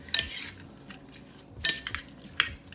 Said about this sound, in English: So we're going to stir this up so that our